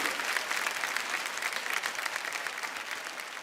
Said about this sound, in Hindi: एक बार जोरदार तालियां रजत जी के लिए बजाएं।